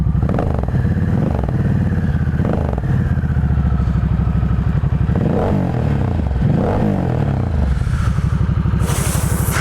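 A 2025 Harley-Davidson Nightster Special motorcycle engine idles loudly and close, with a steady deep throb and several revving swells, plus a brief brighter clatter near the end.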